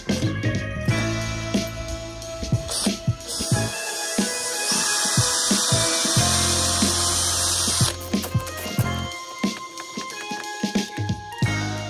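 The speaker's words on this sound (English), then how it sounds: "Always pre-drill your timber, otherwise it will crack." A power drill pre-drills timber during an attic window and rain gutter installation, a steady whirring run of about five seconds between shorter clanks and handling knocks, close by.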